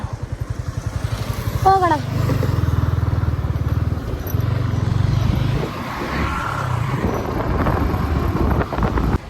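A motorbike is ridden, its engine holding a steady, close rumbling drone with wind buffeting throughout, while a voice speaks briefly over it.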